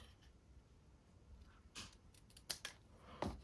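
Scissors snip through a strip of paper card during pocket-card making: a few crisp, close cuts in a quiet room, with two quick snips close together and a final sharper one.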